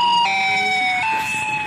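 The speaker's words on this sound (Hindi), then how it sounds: "सच में साइरन है इधर" A loud electronic siren wails in steady stepped tones, shifting pitch a couple of times, close and continuous with no talking.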